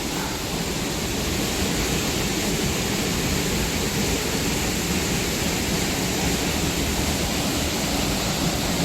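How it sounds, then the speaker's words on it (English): Cherokee Falls in Cloudland Canyon State Park, a waterfall plunging into a large pool among boulders and cliffs, heard as a steady, close, loud broadband roar without pause. "And now we have made it back up to Cherokee Falls, formerly known as Waterfall number 1."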